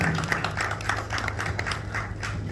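Audience applause for an artist at a Sunday music programme, a steady crowd of hands clapping continuously at moderate volume with no voices over it.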